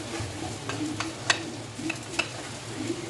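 Adobo fried rice with spring onions is stir-fried in a pan: a steady low sizzle runs under a few sharp spatula scrapes and clinks, close up and moderately quiet, with no talking.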